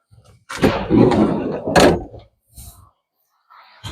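The rear sliding-style door of a Ford B-Max 1.5 TDCi Zetec, a car with no B-pillar, moves with a rolling rumble and then a firm thunk, followed by a couple of softer clicks.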